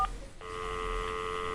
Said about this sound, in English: He takes out his phone and dial a random 8-digit number.